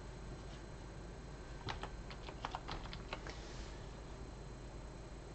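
Soft, quick keystrokes on a computer keyboard tap out a short word in a burst of about a dozen clicks, faint against a quiet background hum.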